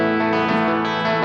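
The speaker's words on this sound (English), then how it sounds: "Now I always like to have this reverb running" Electric guitar played through a pedalboard with reverb set to a medium-sized room, a sustained, harmonically rich chord held steadily and loud, with a soft wet ambience and no talking.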